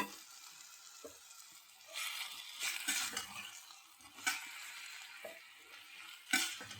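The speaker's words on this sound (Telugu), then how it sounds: "ఒక 5-10 నిమిషాలు ఈ టమాటా మగ్గుతుంది." Tomatoes cooking in a pan with other chopped pieces: a soft, steady sizzle with occasional louder bursts of frying and brief scrapes as the mixture is stirred, close and moderately quiet, no talking.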